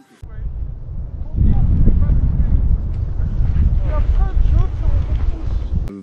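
Strong wind buffets the microphone in heavy gusts high in the Vosges mountains, roaring low and rough, with voices faintly heard beneath it.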